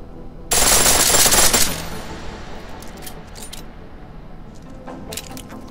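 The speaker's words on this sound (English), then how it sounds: "The pistol in full auto will take down targets fast, but it'll burn through your ammo." Pistol on full auto in Deus Ex: Mankind Divided, one loud rapid burst of about a second, then quiet with scattered metallic clinks and faint shots.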